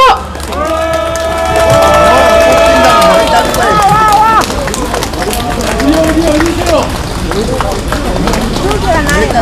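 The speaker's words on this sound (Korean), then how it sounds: "힘찬 박수 부탁드리겠습니다" A crowd at a political rally outside the People Power Party headquarters claps and cheers, with loud shouting voices over dense, continuous applause throughout.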